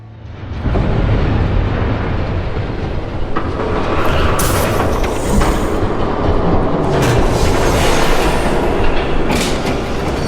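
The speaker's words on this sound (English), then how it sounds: "There's a train coming." A train rumbles past in the Batman Telltale video game, a loud sustained roar with rattling wheel clatter and metallic hiss rising in the middle and holding to the end, with no voices over it.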